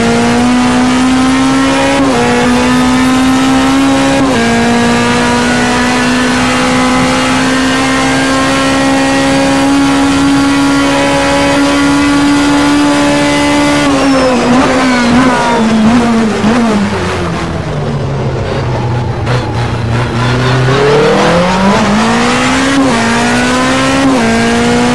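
Loud, sustained DTM race car engine whine at Hockenheim in a racing game, holding pitch, then dropping and rising again as the car brakes and accelerates, with faint tire noise underneath.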